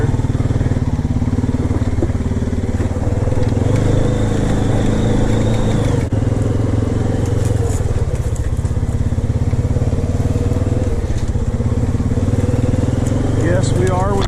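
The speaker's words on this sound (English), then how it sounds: "we are within our rights to quad up this wash" An ATV quad engine running steadily while riding up a desert wash on an Arizona hillside, loud and close throughout, with rough rumbling, crunching thumps over terrain, wind buffeting and a voice talking over it.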